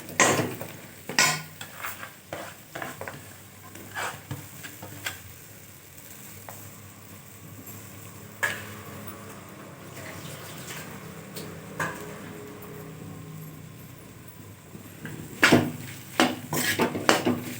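Mashed potato filling for aloo paratha is stirred with milk in a bowl, giving intermittent close clinks and scrapes of a utensil against the bowl with soft mushy stirring between them, and no talking.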